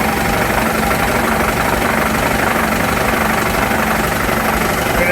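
A shop air compressor runs at full load, building pressure toward its pop-off valve near 135 psi, a loud steady close mechanical drone with rapid pulsing and no talk.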